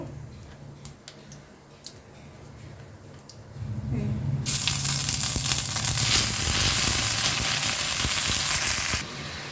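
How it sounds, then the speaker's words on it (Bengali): Ginger paste in a pan bursts into a loud, close, steady hiss of sizzling after a small amount of water is added, following a few quieter ticking clicks. "আদা বাটাটা দিয়ে দেওয়ার পরেতে আমি অল্প পরিমাণে একটু জল দিয়েছি"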